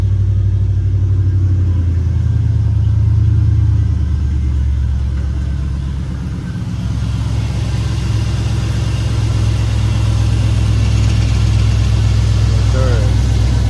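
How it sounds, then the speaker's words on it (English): A 1973 Chevy Impala with a swapped LS engine cold-starts and settles into a loud, steady low rumbling idle, dipping briefly midway before holding on, with a voice talking faintly over it. "Cold start."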